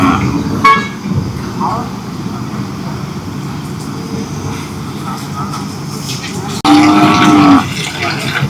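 Cattle low and moo amid a busy Kangeyam-breed cattle market at Kannapuram, with a steady crowd murmur and distant engines throughout, then a louder, drawn-out moo close by near the end. People talk in the background.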